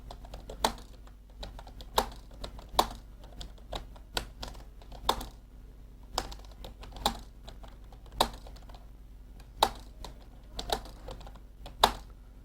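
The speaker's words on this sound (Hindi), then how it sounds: "छोटे में हम टाइप करते हैं" Keys clatter steadily on a computer keyboard while text is typed into WordPad, with irregular bursts of sharp clicks and short pauses between words, close and clear over a quiet room hum.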